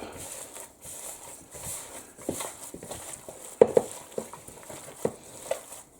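Gloved hand mixing and squeezing beef skewer marinade in a bowl, giving soft, close, wet squelching and stirring sounds with occasional sharper taps against the bowl, fairly quiet and irregular.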